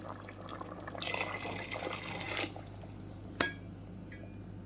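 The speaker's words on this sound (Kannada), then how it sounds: "ಈಗ ಅದಕ್ಕೆ ನೀರು ಹಾಕುವ ನಾವೀಗ" Water poured into a pot of vegetable pulao, a close splashing fill lasting a couple of seconds, followed by a sharp metallic clink and a fainter tap against the pot.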